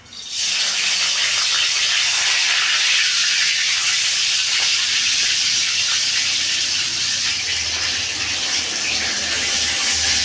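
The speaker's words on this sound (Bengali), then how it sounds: "ভালো করে তেল গরম হয়ে গেছে মাথাটা দিচ্ছি" Hilsa fish head dropped into hot oil, frying with a loud, steady hiss and sizzle that starts abruptly and holds evenly throughout, close and unbroken with no talk.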